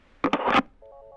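Call-ended tones sound on a telephone line during a radio phone-in show. A brief noisy burst is followed by a steady series of short, evenly spaced electronic beeps, heard alone.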